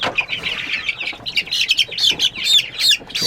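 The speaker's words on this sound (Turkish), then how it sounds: "Çok güzel civcivler böyle." Newly hatched chicks of a new breed peeping continuously, a dense chorus of high, overlapping chirps close by with no talking.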